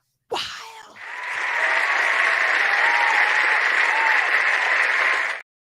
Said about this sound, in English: when RC does a mic drop? I mean, the crowd goes wild.